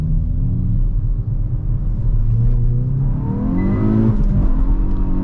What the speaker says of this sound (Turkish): Tabi şu an patinajı çeke çeke gidiyor.